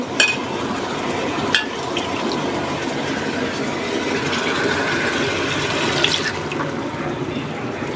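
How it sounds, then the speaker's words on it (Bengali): A spice paste of turmeric, chili, coriander, ginger, garlic and cumin, with cardamom and cinnamon, sizzles as it is sautéed, giving a steady close frying hiss with a few faint clinks. "মশলাটা কষানো হোক"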